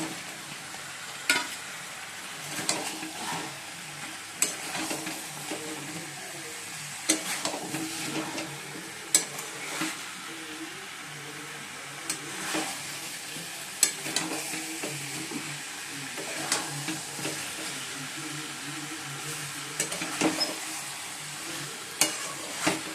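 Potatoes fry in a pan while being stirred, giving a steady sizzle with repeated scraping and clanking strokes of the spatula throughout, close and moderately loud, with no talk.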